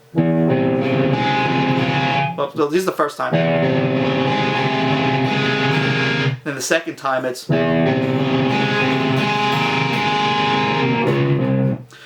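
Sustained distorted electric guitar riff, alternating across four strings, loud and dense, briefly interrupted twice by someone speaking before the playing resumes.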